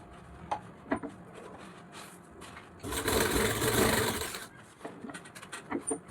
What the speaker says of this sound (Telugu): చూడండి ఇప్పుడు ఇలా స్టిచ్చింగ్ చేస్తున్నాను అనమాట.